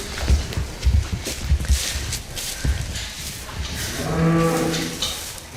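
Cattle on a farm during a veterinary visit: a cow gives a long, loud, close moo near the end, preceded by shuffling hooves and footsteps in the barn.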